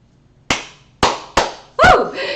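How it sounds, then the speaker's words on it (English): Hands clapping three times in a bright, close, sharp pattern, each clap ringing briefly before it cuts off, then a voice breaks in right after. "I want to get a good clap. Oh, that was a good one."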